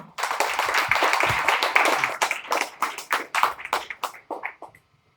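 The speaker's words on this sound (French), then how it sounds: "Applaudis Pasteur Evans encore." A congregation at a Baptist church claps for Pastor Evans, a close burst of hand clapping that starts dense and tapers into scattered, uneven claps over a few seconds before stopping.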